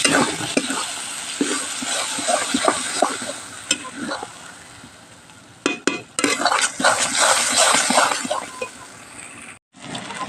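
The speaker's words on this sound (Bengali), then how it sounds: "সিদ্ধ করে রাখা কচুর পাতাটা দিয়ে দিলাম আর এবার নাড়িয়ে চাড়িয়ে এটা ভেজে নেব সুন্দর করে কষিয়ে নেব তেলের সাথে" Boiled taro leaves are stirred and fried in oil in a pan, giving close scraping and clattering stirs over a continuous sizzle, with a brief dropout near the end.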